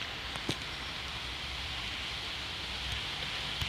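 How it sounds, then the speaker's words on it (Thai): Rain falling outside a house, a steady close wash of noise with occasional faint drips and ticks throughout. "บ้านกูฝนตกอีก"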